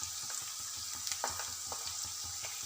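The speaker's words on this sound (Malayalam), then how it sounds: "ഇതിനി നമുക്കൊന്ന് ഫ്രൈ ആവണ വരെ ഒന്ന് പതുക്കെ ഒന്ന് തിരിച്ചു മറിച്ചിട്ട് കൊടുത്ത് ഫ്രൈ ആക്കി എടുക്കാം." Chicken pieces sizzle steadily in a pan for dragon chicken while being turned, with soft scraping and clacking from the utensil recurring every half second or so over the constant hiss.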